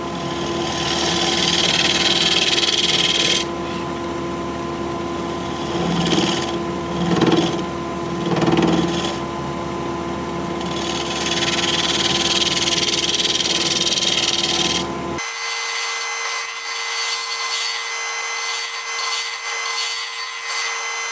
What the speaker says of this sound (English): I'll sharpen up my negative rake scraper and we'll scrape.